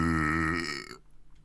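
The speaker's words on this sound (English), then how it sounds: "I needed a burp. That's what it was." A character in the survival video game SCUM lets out one long, loud, deep burp that lasts about a second and then cuts off to near silence.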